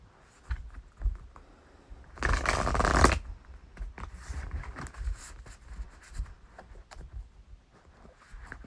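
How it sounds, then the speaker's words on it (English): Tarot cards are shuffled and drawn, giving a quiet rustle, a dense burst of riffling for about a second, then soft scattered card slides and taps close by. "Yes, go ahead with your question and I will draw a card for you."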